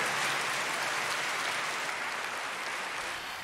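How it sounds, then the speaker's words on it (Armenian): Dense, steady applause from a large audience praising performing artists, continuous and even from start to finish, fading slightly at the end. "Ես ծափահարում եմ"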